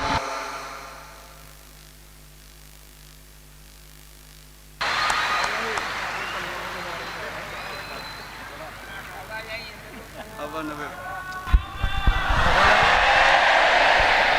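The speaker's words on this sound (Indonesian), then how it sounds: "Tepuk tangan sekali lagi buat beliau, Kiai Anwar Zahid" An audience at a religious gathering bursts into sustained applause for Kiai Anwar Zahid after a quiet stretch, with a broad wash of clapping and crowd noise that swells louder near the end while a voice talks over it.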